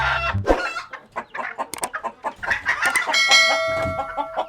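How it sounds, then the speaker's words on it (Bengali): Cartoon hens and a rooster in a farmyard squawk in alarm at a raiding fox, a loud, close flurry of overlapping clucks, shrieks and cackling calls in rapid bursts. "শিয়ালকে দেখে সব মুরগিরা চিৎকার করতে শুরু করে"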